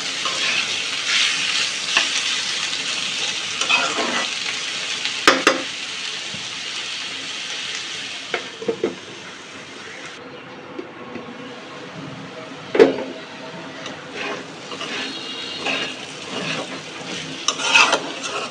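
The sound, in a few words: frying cubed potatoes with yardlong beans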